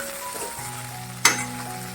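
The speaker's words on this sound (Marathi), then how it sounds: "कमी गॅसवर परतत राहायची सारखं खालणं परतायची" Okra sizzles steadily in a hot pan over low heat, with a sharp scraping stir of a spatula partway through; no voices, close and moderately loud.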